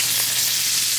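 A steak flipped in a HexClad-style frying pan, giving a steady, loud hiss of sizzling fat and meat that fills the brief moment without talk.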